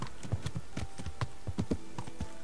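Horse hooves clip-clop in the medieval Kingdom Come: Deliverance video game, a steady rapid series of sharp thuds at a trotting pace, moderately close over a light constant background.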